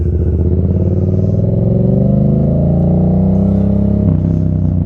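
Motorcycle engine revving hard during a wheelie power up, a steady loud rising drone with a gear shift into third near the end, close up and alone.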